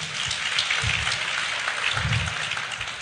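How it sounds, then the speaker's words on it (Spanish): Church congregation clapping in steady, moderate applause that carries on throughout, fairly even in level, with no talk over it. "Dele un fuerte aplauso."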